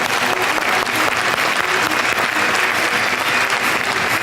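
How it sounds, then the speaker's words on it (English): A large conference audience applauds as the next presenter takes the stage, a loud, thick and continuous roar of clapping that stays steady throughout. "join me in giving a huge round of applause to your next presenter"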